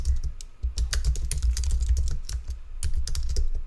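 Someone types a terminal install command on a computer keyboard in a quick, uneven burst of close, crisp key clicks and taps, with no voices.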